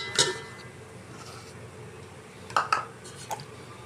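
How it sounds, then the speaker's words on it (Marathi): Yogurt is spooned into a metal cooking pot while making biryani at home, giving a few faint clinks and taps of the spoon against the pot with quiet pauses between. "दही घालून घेऊया।"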